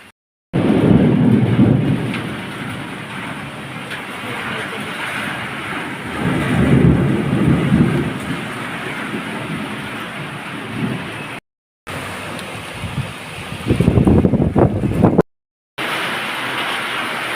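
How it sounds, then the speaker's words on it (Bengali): Heavy rain pours steadily while deep rumbles of thunder roll in and out, loud and close, with a couple of brief gaps. "জোরে বৃষ্টিটা হচ্ছে।"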